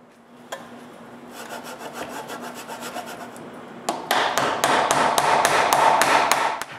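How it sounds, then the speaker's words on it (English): Small mortises are cut into a timber frame post with sharp, rhythmic chisel taps and scraping rasps in the wood, a slower series followed by denser, louder strikes, close up and without talking. "she has to make the small mortises on top of the post"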